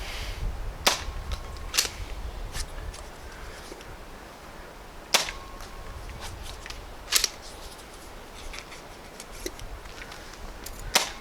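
A foam dart blaster firing elite darts, sharp snapping shots spaced irregularly over several seconds against a quiet outdoor background, a few louder and closer than others.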